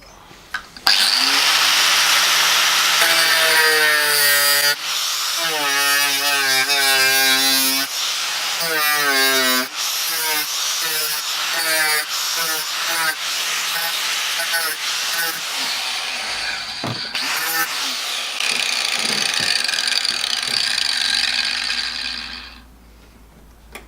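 A power tool cuts away rusted sheet metal on a car during a simple rust repair, a loud whining grind with shifting pitch that runs steadily for most of the stretch and then cuts out at the end.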